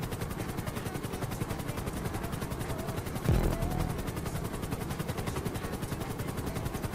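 A helicopter in GTA V gives a steady, rapid rotor chop and whine throughout, with a brief heavy thump midway, fairly close and continuous, with no voices.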